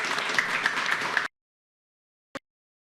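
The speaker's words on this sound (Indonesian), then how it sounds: "Kita tepuk tangan dulu untuk para narasumber." A studio audience on a TV talk show applauds the panel speakers in a brief, full burst of many clapping hands that cuts off abruptly into silence, followed by a single faint click.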